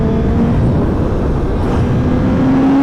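A 2021 Kawasaki ZX10R motorcycle leaves the pit lane at the Dijon-Prenois circuit, a loud sustained engine drone with a steady tone, close and continuous, without speech.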